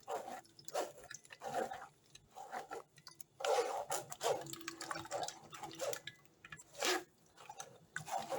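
Wet, irregular dripping and squelching bursts of juice, close up, coming in uneven spurts with brief pauses between them.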